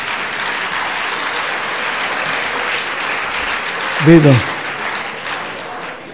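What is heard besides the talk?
audience applauding at a conference talk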